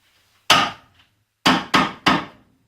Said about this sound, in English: giving it a little tappity tap tap tap